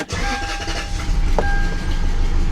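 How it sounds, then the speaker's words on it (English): A rough, uneven, misfiring idle of a Lexus car engine rumbles steadily up close, with a faint whine running through it. "I think it's misfiring. I'm pretty sure it's a misfire."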